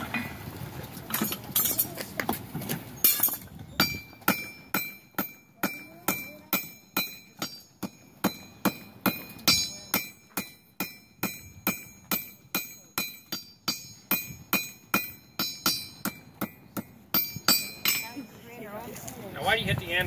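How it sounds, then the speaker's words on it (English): A blacksmith's hammer strikes metal on an anvil in a rapid, steady series of bright ringing clinks, dozens of blows over a sustained stretch, with voices talking briefly at the start. "why do you hit the anvil occasionally with your hammer?"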